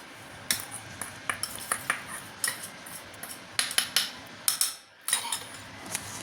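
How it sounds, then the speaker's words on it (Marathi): A spoon or whisk clinks and taps rhythmically against a bowl while baking soda and baking powder are mixed into batter for a dark fantasy cake, with a steady run of close, sharp metallic knocks and no talk. "हे मिक्स करून घ्यायचं आहे व्यवस्थित."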